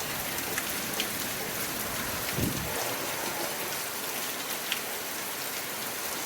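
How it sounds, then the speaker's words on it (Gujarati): Heavy rain pours down in a village, a steady dense hiss of drops on surfaces that continues without pause, with no voices. "વરસાદ આવી ગયો મસ્ત મજાનો"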